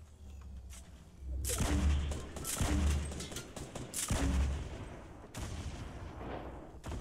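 Gunfire in Fortnite Battle Royale: several heavy, booming shots land in separate bursts with short gaps between, loud and close, each with a deep thump and a quick decay.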